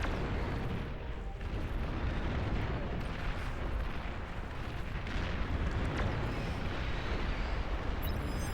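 Artillery in the strategy game Beyond All Reason pounds away in an 8v8 battle, a thick, unbroken rumble of overlapping booms and blasts that stays loud and dense throughout.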